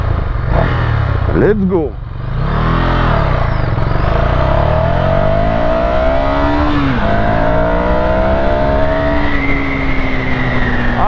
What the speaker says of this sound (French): maintenant on refait une accélération